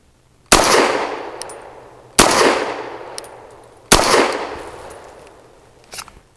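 Three sharp, loud pistol shots from a Fusion Firearms Ermox XP Pro firing Sig Elite Defense 115 grain V-Crown rounds ring out at even intervals, each with a long ringing decay, then a faint clink.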